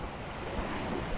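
Sea waves wash steadily against a rocky shore at night during fishing, a dense continuous roar of surf with some wind, fairly loud and without talk.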